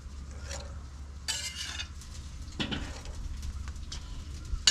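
Burgers go onto a charcoal grill with a quick scrape and clatter of tools, followed by a low, moderate sizzle and short bursts of hissing, nearby and without talk.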